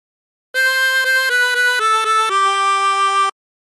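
A 16-hole tremolo harmonica plays a short La Cucaracha phrase: a handful of clear, reedy sustained notes stepping in pitch, ending on a longer held note, close and alone.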